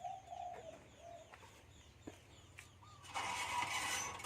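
Spotted dove chicks with their foster mother, a red collared dove, give soft repeated coos and chirps close by, followed by a burst of rustling noise near the end.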